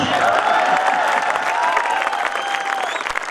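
Dense, steady clapping from an audience at a Hindi poetry recital fills the whole moment, loud and close with a slight easing toward the end.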